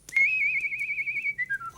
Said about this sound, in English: the soldier stood and whistled his ruby whistle